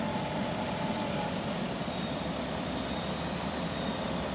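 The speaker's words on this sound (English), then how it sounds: "you can hear it kind of dragging the engine down" A Dodge Chrysler engine idles under added alternator load, giving a steady, dense, low droning hum with no breaks, close and moderately loud.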